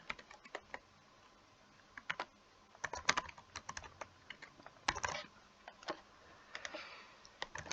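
Typing an email address on a computer keyboard, a close series of sharp irregular key clicks in quick bursts separated by short pauses, with no talking.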